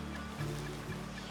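Ducks in the Red Dead Redemption game give two short, honking quacks close by, over a steady low background hum.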